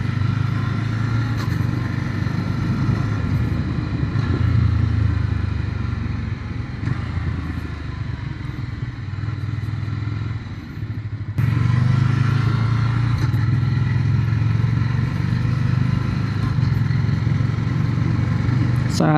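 Ducati Scrambler Icon 2026 motorcycle under way, its engine droning loud and steady with wind rush, a brief dip near the middle where the quick shifter swaps gears before the engine picks back up.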